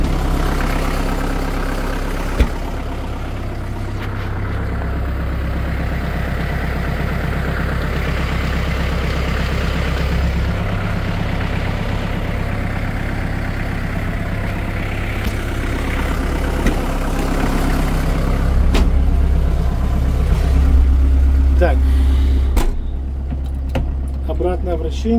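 Kubota KL380 tractor engine running steadily and pulling off in first gear, a low idling rumble that rises in load toward the end, with someone talking over it and some jangling.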